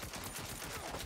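Rapid video-game gunfire from Saints Row: a dense, loud fusillade of overlapping shots hammering in a steady automatic rhythm with no pause, close and unbroken.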